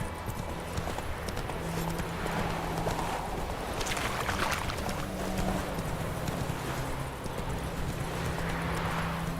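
A horse galloping in the video game The Witcher 3, rapid rhythmic hoofbeats clip-clopping steadily and close, with faint tack jingles and ambient game sounds.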